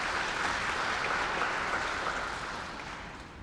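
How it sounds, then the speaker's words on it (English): The audience at a graduation ceremony for new teachers breaks into sustained applause, a dense, steady wash of clapping that slowly fades toward the end. "Please give yourselves a round of applause for entering the teaching profession."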